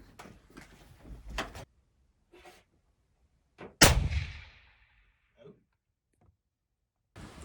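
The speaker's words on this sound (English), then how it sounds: "So what we're going to do now is take the next confirmatory shot, and everything should be aligned and straight on." A single sharp rifle shot cracks out at a shooting range, fired through a rifle fitted with a Zeiss DTC thermal add-on, loud and close with a decaying tail, after some faint clicks and handling noises, then near silence.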